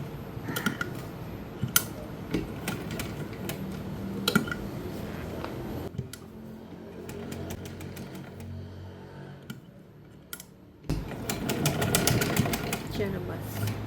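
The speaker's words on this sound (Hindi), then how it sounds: "ऐसे 4-5 सिलाइयाँ लगा के इसको पक्का करना है।" Sewing machine stitching a fabric patch onto a plain dress, with rapid rhythmic needle clatter in bursts that pause and restart, close and fairly loud, while someone talks over it.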